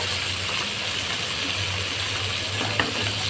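Tengra fish frying in hot oil in a wok, a continuous close sizzle with a faint scrape and a small click as the fish is turned over.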